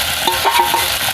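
Ground green mango paste goes into spices frying in oil for a tangy fish curry, giving a loud continuous sizzle with soft scraping stirs up close.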